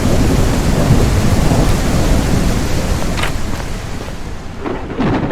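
A thunderstorm in a survival extraction video game: heavy rain pours in a loud, steady wash while thunder rumbles and a few sharp crackles break through near the end.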